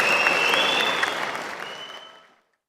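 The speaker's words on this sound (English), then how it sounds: "Let's have a round of applause for all the teams entering the Design Challenge finals" An audience at a Design Challenge finals claps and applauds loudly, the applause gradually fading away over a couple of seconds until silence.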